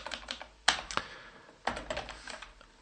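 Typing on a computer keyboard, a quiet run of small clicks with two sharper, louder key strikes standing out before another burst of rapid keystrokes.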